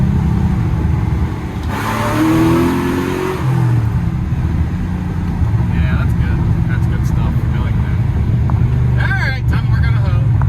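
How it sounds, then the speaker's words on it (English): A Pontiac GTO drives along, its engine rumbling steadily up close with a brief surge partway through, while people talk over the motor. "the GTO is back. She's running good, she's stopping good"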